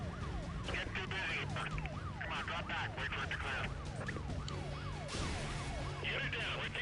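Wailing police sirens in Need for Speed Most Wanted sweep up and down continuously, layered with a second yelping siren and engine rumble, loud and constant throughout.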